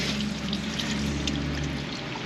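Dirty fluid from a 2002 Chevrolet Venture with a 3.4 engine drains out as bolts are removed, a steady close splashing pour with a low gurgling hum that cuts off near the end.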